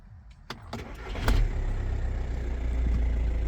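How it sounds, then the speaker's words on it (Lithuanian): A Škoda Superb engine cranks with a few sharp clicks, catches, and settles into a steady, close, rumbling idle that holds to the end. "Variklis užsiveda puikiai"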